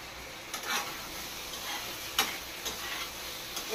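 Pipul greens and bottle gourd fry in a pan with a lid, giving a soft, steady hiss with occasional faint clicks and taps.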